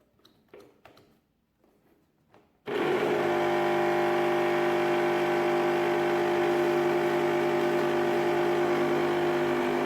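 A mixer grinder motor under repair testing starts abruptly after a few faint clicks and then runs loud and steady, a continuous whining hum with a rattly buzz that holds to the end.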